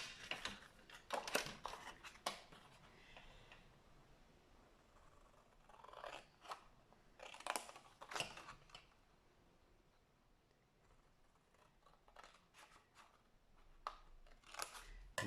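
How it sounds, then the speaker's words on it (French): Scissors cutting along folded paper lines for a diamond-shaped box, a series of crisp snips in short bursts with pauses between, close and fairly quiet, with no talking. "Donc on va couper nos lignes."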